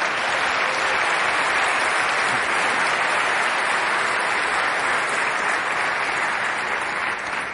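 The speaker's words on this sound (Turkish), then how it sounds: "arzu ederseniz onu burada olmamasına rağmen alkışlayalım" A large audience at an awards ceremony claps steadily and loudly for several seconds, a dense even wash of applause without pause.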